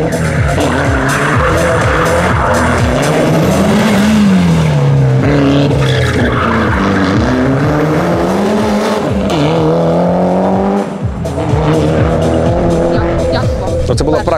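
Race cars at the Grand Prix Truskavets 2019 Ukrainian auto racing championship roar close by with revving, shifting engines and squealing tires, a loud unbroken stream of motor noise with a voice talking over it.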